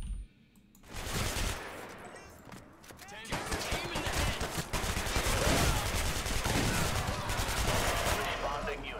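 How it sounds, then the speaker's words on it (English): Rapid, dense gunfire in the video game Hatred, loud and nearly continuous for about nine seconds, with overlapping bursts and heavy low rumble after a brief quieter start. "Last known gunshots were in the front of the building."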